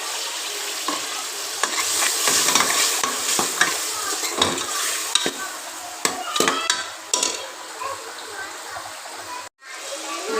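Tomatoes and green chilies go into mash dal frying in a pan for an evening meal, bringing a steady sizzle and sharp clinks and scrapes from stirring that come in irregular bursts.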